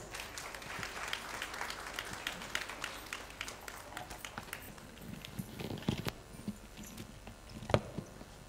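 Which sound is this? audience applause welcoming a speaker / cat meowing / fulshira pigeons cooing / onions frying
audience applause welcoming a speaker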